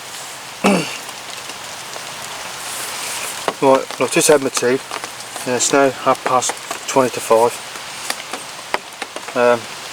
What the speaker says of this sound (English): We just had quite a bit of rain come down